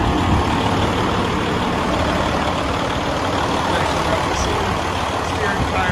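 A 2016 Freightliner Cascadia 125 Evolution truck idles with a loud, steady diesel rumble, heard close and continuous throughout with no breaks.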